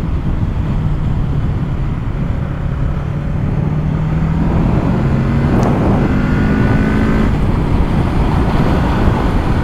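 A two-cylinder Kawasaki Z motorcycle engine runs steadily, giving a continuous loud low drone with a slight rise in pitch partway through.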